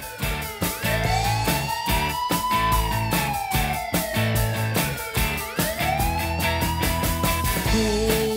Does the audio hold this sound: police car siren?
yes